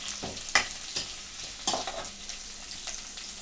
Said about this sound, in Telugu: ఫస్ట్ కొద్దిగా హైలో పెట్టేసుకుని వేయించుకోవచ్చండి ఇవి కొద్దిగా బ్రౌన్ కలర్లో రావాలండి